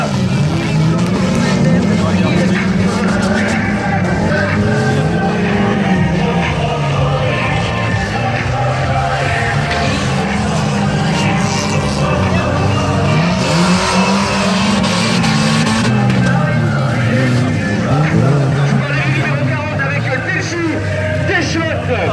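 Stock cars roar off at the start of a speed heat at a dirt oval race, a dense continuous engine din with rising and falling revs and tire noise, while a commentator talks excitedly over it throughout.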